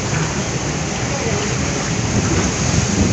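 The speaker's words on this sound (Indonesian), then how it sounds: "Tuh, basah. Hujan angin." Heavy rain and wind lashing down during a storm near a Jakarta–Lampung ferry crossing, a loud, dense, continuous roar of downpour and gusts close by with no let-up.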